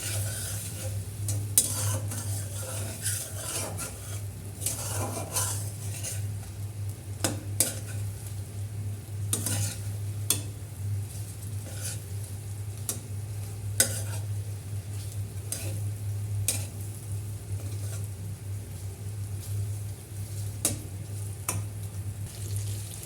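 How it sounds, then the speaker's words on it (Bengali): Fried prawns stirred into a sizzling spice masala in a pan give a steady low sizzle broken by repeated spatula scrapes and clinks against the pan throughout. "আমার মশলা কষানো শেষ, এখন চিংড়ি মাছ, ভাজা চিংড়ি মাছটা দিয়ে দিলাম।"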